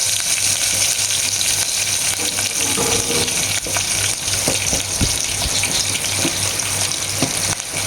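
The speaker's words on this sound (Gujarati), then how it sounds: "આ નાખી દઈશું મરચાંનો લીમડો." Green chillies and curry leaves drop into hot tempering oil for khaman, producing a loud, dense sizzle with intermittent stirring knocks and crackles throughout.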